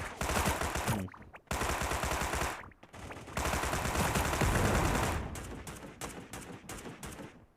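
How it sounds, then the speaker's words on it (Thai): Rapid gunfire bursts from the Sausage Man shooter game, loud and close, with automatic strings of shots broken by short silent gaps and a long sustained volley in the middle. "มีคนยิง"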